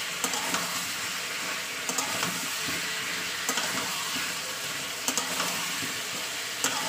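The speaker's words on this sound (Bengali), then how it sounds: "জাস্ট তেলে ফ্রাই করে নিচ্ছি সব জিনিসটা।" Ingredients for an aloo chicken kosha fry in oil in a pan, a low, steady sizzle broken by a few sharp clicks of stirring at irregular intervals.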